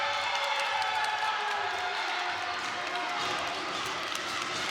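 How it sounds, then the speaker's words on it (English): A gym crowd at a women's volleyball match against Mohawk sends up a steady, broad roar of boos that fills the space continuously from start to finish, loud and sustained without pauses. "You can hear the boos coming out in the gym."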